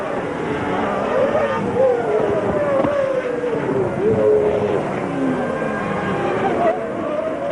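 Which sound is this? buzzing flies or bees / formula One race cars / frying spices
formula One race cars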